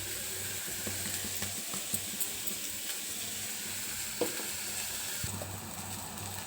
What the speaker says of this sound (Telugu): ఉల్లిపాయ, పచ్చిమిరపకాయ, కరివేపాకు వేసి వేయించుకోవాలి.